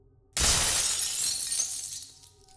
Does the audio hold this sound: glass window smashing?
yes